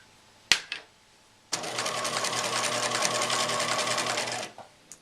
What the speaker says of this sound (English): lining it up with the inside corner of the presser foot